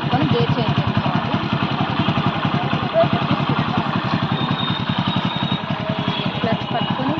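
A motorcycle engine runs steadily through a clutch pull and gear change, a close, continuous pulsing rumble over several seconds with no talk.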